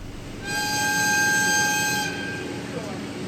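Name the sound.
Oku Izumo Orochi diesel train departing Bingo-Ochiai Station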